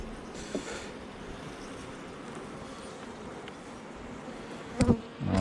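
Honey bees buzz from a disturbed, agitated hive colony, a steady dense swarm drone filling the whole stretch with a couple of brief louder knocks near the end.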